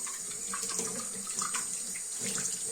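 Tap water runs steadily over aquarium parts being rinsed in a sink, a continuous close splashing hiss with small shifts as the flow hits the pieces, no voices.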